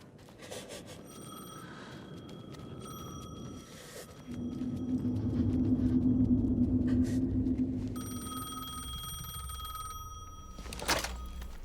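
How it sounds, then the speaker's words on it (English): A telephone in the Alan Wake 2 video game rings in repeated bursts of a bright electronic bell. A deep rumbling drone swells between the rings, and there is a sharp thud near the end. "The phone again."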